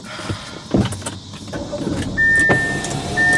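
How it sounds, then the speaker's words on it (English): A car's electric power window whirs steadily as it rolls down, after a few faint clicks and handling noises in a hot, quiet car interior, close and clear. "I'm gonna roll down the window a little bit."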